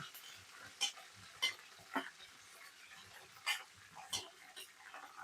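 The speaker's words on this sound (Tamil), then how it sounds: "ஆட் பண்ணி ஒரு வதக்கிக்கோங்க." Garlic and curry leaves sautéing in a hot pan, a soft, steady sizzle broken by several sharp clinks and scrapes of a stirring utensil at an uneven pace.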